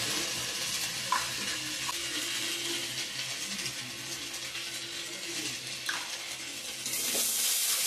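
Khichuri with salt and turmeric frying in a pan, a continuous moderate sizzle with occasional spoon taps, swelling a little louder toward the end.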